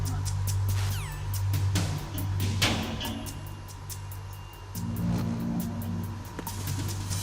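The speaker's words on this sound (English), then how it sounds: "we're in the engine room, there's a lot of noise." Engine room machinery in the Hitman video game rumbles loudly with a steady low hum and droning tones, broken by a few sharp metallic clanks and a rising whine, and no voices over it.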